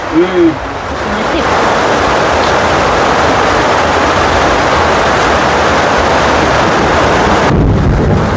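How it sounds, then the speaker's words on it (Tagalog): Heavy rain pours near a market stall, a loud, steady broadband roar that begins after a brief voice at the start and continues without letup. "Lakas ng ulan."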